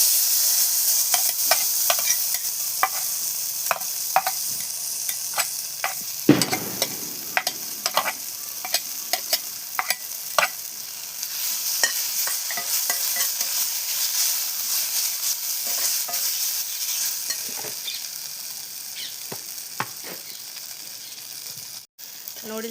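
Ragi noodles sizzle and fry in a pan while being stirred, a steady hiss close up with frequent scraping clicks of the utensil against the metal throughout.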